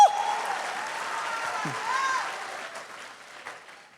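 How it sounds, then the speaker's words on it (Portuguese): A church audience at a conference applauds steadily for several seconds, moderately loud and close, gradually tapering off. "Aleluia, aplauda mais alto"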